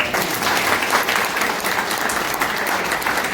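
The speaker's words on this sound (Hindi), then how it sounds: "हम लोग एक दूसरे की ताली बजा देंगे" An audience claps together at a Sunday school teachers' training program of the Diocese of Chotanagpur, a loud, even burst of applause that fills the room without a break.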